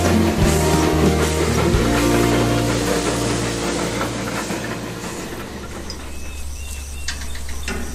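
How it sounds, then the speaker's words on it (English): Two steam locomotives working hard up a steep gradient at a farm heritage railway event, a loud steady rumble and chuffing with rhythmic wheel clatter that fades slightly as they pass, no voices. "there can be no finer spectacle than a pair of steam engines fighting the stiff gradient."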